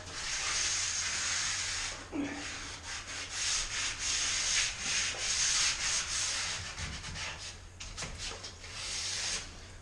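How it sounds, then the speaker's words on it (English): A window frame is sanded by hand with 80 grit sandpaper, giving a close, continuous scratchy rasp in quick back-and-forth strokes with brief pauses and small knocks, and no voices. "Basically I'm using a 80 grit sandpaper, and I'd expect to use one bit like that on each frame."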